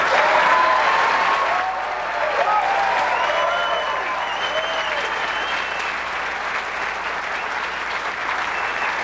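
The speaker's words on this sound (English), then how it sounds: "you'll hear the crowd explode when this 9 goes in" Crowd at a 2004 Midwest Classic pool finals match erupting into loud applause and cheering, a sustained roar of clapping with whistles that stays strong throughout.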